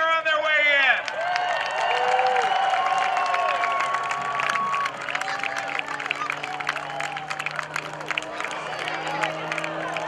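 A crowd at a military open house air show cheering and clapping as three skydivers come in to land, a broad wash of applause and shouts under a loud announcer's voice over the public address.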